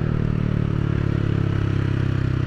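A Yamaha Aerox 155 scooter fitted with a new aftermarket exhaust muffler holds a loud, steady engine drone close up, a dense buzzing rumble with no pauses and no talking.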